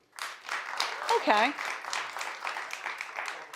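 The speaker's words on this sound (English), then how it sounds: "Clap if you do." Studio audience on a daytime talk show claps in a steady burst of moderate applause, while a voice briefly speaks over it.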